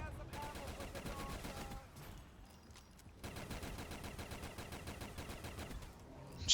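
Rapid video-game gunfire in a zombies-mode Leviathan map, bursts of fast repeated shots that pause briefly mid-clip before resuming steadily at a close, loud level.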